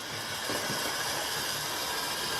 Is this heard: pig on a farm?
no